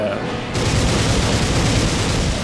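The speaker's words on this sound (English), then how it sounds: "Is that the big explosion?" A big explosion in the video game Castlevania: Lament of Innocence, heard as a loud, sustained rumbling boom that erupts after a brief quieter moment and rolls on with dense low crackling.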